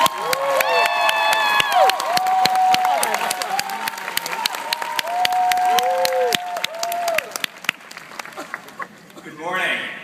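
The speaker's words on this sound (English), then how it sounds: "Yes, round of applause for all of you." A graduation audience applauds and cheers at a Berkeley ceremony, with steady clapping and shouts over about ten seconds while a speaker's amplified voice runs on top.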